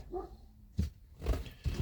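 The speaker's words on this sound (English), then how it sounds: "I have to go because the doggies are barking." Dogs bark at a distance, a few short muffled barks spaced irregularly over a quiet indoor background.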